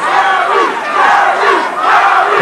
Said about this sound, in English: Crowd chanting Gary, Gary for Hinton.